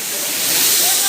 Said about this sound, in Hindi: यहाँ हमन नहाबो देख सकते झरना बहुत बहुत मस्त